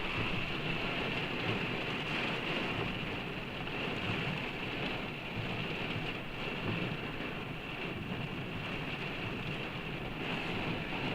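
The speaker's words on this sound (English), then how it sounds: "this wind is incredible in addition to the driving rain" Driving rain pelts a car in strong wind, a dense, steady roar of drumming and hiss that holds constant throughout, heard from inside.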